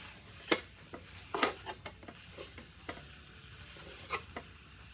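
Sausage meat sizzles in a pan while a utensil breaks it into big chunks, giving several sharp scraping knocks over a steady close fry, with no talking.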